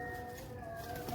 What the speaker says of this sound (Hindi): ये नीचे कबूतर हैं अपने पास